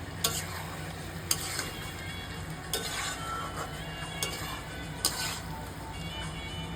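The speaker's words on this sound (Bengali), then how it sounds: "এবারে 2-3 মিনিট মতো আমি কষে নেব" Potato and paneer curry being sautéed in a pan: a spoon scrapes and taps at intervals over a low continuous sizzle, close by and with no talking.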